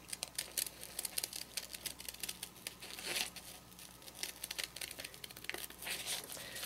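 Scissors cutting through paper, with the paper steered rather than the blades, making a dense run of crisp snipping and crinkling close by, irregular and fairly quiet, with no talking.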